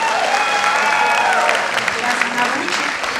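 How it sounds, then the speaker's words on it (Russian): An audience at a regional school-league KVN comedy event breaks into sustained, dense applause, loud and close, with an announcer's voice carried over the clapping. "Ваши аплодисменты, друзья"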